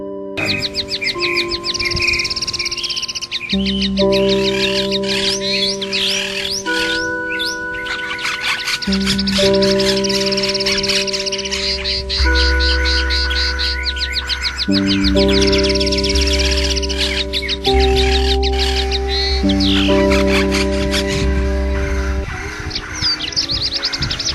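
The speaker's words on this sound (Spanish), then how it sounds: "llega el alba, con el canto de los pajaritos, que despertaban a todos los que dormían" Small birds singing at dawn, bright repeated chirps and trills alone with no voices, layered over a steady low tone.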